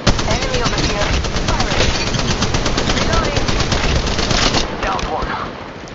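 Gunfire in Apex Legends Mobile, a dense, continuous rattle of rapid automatic shots, loud and close, with voices mixed in during the firefight.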